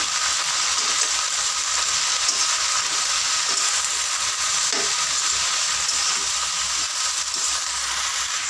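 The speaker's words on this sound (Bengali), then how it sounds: "বাঁধাকপিগুলো দেওয়ার পরে তাকে আমি ভালো করে মশলার সঙ্গে মিশিয়ে নেবো" Shredded cabbage stirred with spices in a hot frying pan for a Bengali cabbage chorchori, heard as a steady, close sizzle with soft scraping from the stirring and one brief clink midway.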